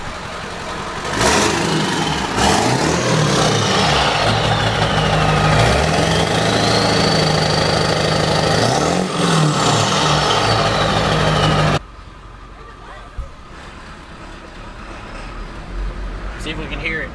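Ford Super Duty truck with a 4-inch straight pipe, revved loudly up close in two rising-and-falling surges over a rough idle, then cutting abruptly to a much quieter background, with voices nearby.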